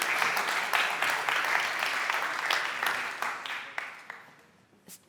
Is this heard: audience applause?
yes